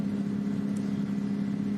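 Green Nissan Skyline drift car at an EDC drift round at Calder Park Thunderdome, its engine holding a steady, droning rev at a distance, with no talk over it.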